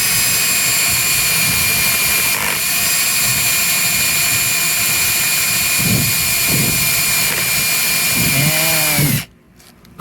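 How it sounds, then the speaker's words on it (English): A drill with a paddle bit bores a recess for a lag bolt in wood, giving a loud, steady high whine for about nine seconds before cutting off abruptly, with the pitch sagging briefly near the end. "I'm just gonna have a paddle bit take care of the recess for the"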